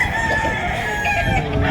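Bred gamecocks at a Philippine rooster market crow, with a drawn-out call rising over a constant din of the crowded setting.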